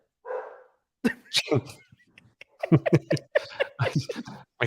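A dog gives one short bark early on, then someone talks steadily and the barking does not return.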